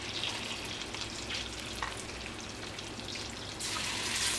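Salmon cubes seasoned with salt, pepper and dill frying in a pan: a dense, steady sizzle close up that grows noticeably louder near the end, with no talking.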